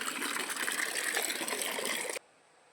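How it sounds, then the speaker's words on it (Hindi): Mountain water runs steadily into a container at a Himalayan farm in Uttarakhand, a loud, continuous gushing pour that stops abruptly near the end, leaving quiet background. "अभी यहाँ पानी लगा रखा मैंने भरने के लिए"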